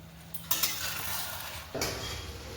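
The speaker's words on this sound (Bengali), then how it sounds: "সব একসঙ্গে ভালোভাবে কষিয়ে নেব।" Spice paste with salt and chopped tomatoes being stirred in a hot pan for cauliflower chicken curry, a low sizzle broken by two sharp metal spoon scrapes and clinks against the pan.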